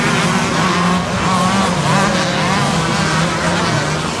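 Vintage motocross motorcycles racing at a championship, loud overlapping engine whine and revving that swells and eases, sustained and close with no talk.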